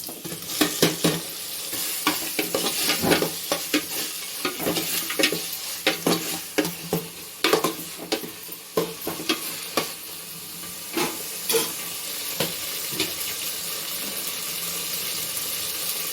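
Tomatoes sizzle and fry in a pan for Ambur dum biryani, with repeated scraping stirs of a spoon breaking through a steady close hiss throughout, and no talking.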